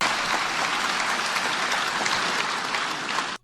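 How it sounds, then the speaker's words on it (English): A television studio audience at a Muppets show bursts into applause, a dense, even wash of clapping that holds steady and then cuts off abruptly. "breaking into applause."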